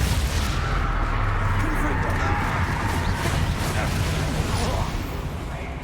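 Repeated blasting spell explosions from Bombarda and Confringo casts in the video game Hogwarts Legacy, a dense, continuous barrage of loud booming impacts and crackling bursts with no pause.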